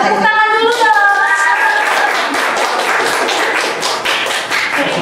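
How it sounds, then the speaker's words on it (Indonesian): A group claps hands at a university student event, a loud, dense patter of applause that starts under a voice and carries on steadily for several seconds. "Tepuk tangan dulu dong."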